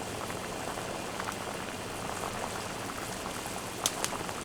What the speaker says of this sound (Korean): 야채하고 지금 들어가 끓고 있습니다